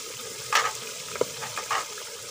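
Biryani masala with tomato, green chilli, garam masala, fenugreek and ground coriander frying in a pan, a soft steady sizzle with a few scraping stirs, close up and without speech.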